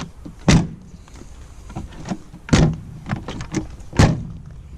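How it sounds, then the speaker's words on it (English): Doors on a 1966 Volvo 122 four-door sedan are shut three times, each a solid, close thud, with lighter clicks and handling noises between them. "The doors shut nice."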